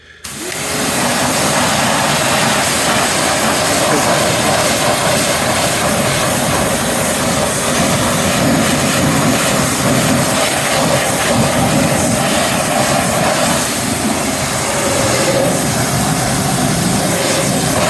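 A pressure washer rinses car wheels with a loud, continuous hissing spray that holds steady throughout, close by and without talk.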